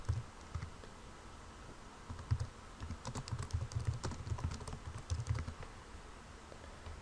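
Close, quiet keystrokes patter on a computer keyboard in irregular clusters of soft clicks, with short pauses between bursts and no talking.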